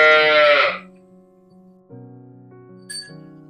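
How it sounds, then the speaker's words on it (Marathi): A newly arrived cow calls once in a loud, drawn-out bellow, followed by quieter sustained ringing, bell-like tones with a short metallic clink. "नवीन गायचा आवाज येतोय तिकडून"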